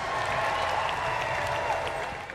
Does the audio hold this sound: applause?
yes